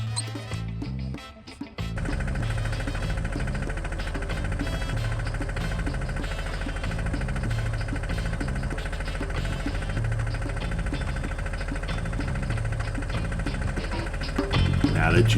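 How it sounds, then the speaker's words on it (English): A wellpoint dewatering pump running at a lift station, a loud, steady, continuous mechanical drone with rhythmic knocking, after a brief rough start. "Now that you got it primed up, and you got the pump running"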